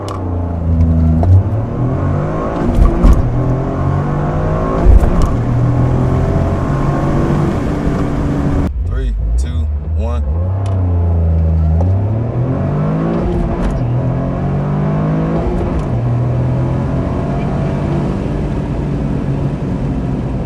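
A Toyota GR Corolla launches hard in a 0-60 run, the engine revving up through several gears with sharp shift breaks, loud and close from inside the car, then settling into a steady drone at speed.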